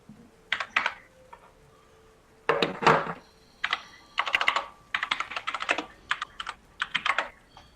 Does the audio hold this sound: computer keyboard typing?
yes